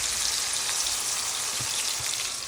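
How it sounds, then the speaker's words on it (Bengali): Onion and a couple of garlic cloves fry in hot oil for a pangas fish dish, a dense, even, rain-like sizzle heard up close, steady and unbroken throughout. "জোড়ার জন্য একটু তেল বসিয়ে দিলাম, পেঁয়াজও দিয়ে দিলাম।"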